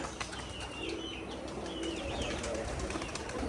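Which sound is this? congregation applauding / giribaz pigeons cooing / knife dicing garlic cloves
giribaz pigeons cooing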